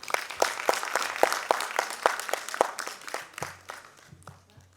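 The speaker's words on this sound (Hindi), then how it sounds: "कृपया इनका तालियों से स्वागत करें।" Modest applause welcoming two dancers onto the stage at an Independence Day cultural event, sounding like a small audience with clear, evenly spaced individual claps that gradually slow and fade, plus a low hum underneath.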